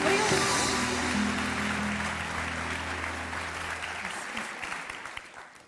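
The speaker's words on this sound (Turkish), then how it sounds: "Bir büyük alkış daha alalım Kore'ye" Loud applause from a TV studio audience, sustained and dense at first, then gradually thinning into scattered claps.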